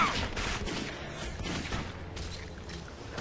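Gunfire rattles in the shooter video game Clive Barker's Jericho, a dense continuous fusillade of shots and booms at moderate level with no clear speech.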